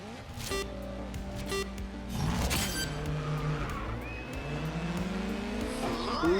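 Race cars in GRID Legends, a semi-pro touring car event, launch off the starting grid: engines rev and climb in pitch together, a loud dense roar with some tyre noise, swelling as the pack pulls away.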